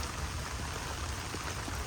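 Rain falls steadily around a garden of okra and papaya, a continuous soft hiss with faint patter and no voices.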